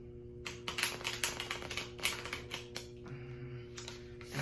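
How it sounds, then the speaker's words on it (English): Tarot cards are shuffled close up in a quick run of crisp riffling flicks and slaps, with a short pause and then a final louder burst, with no talking. "I also don't want to waste like all of your time just you watching me shuffling"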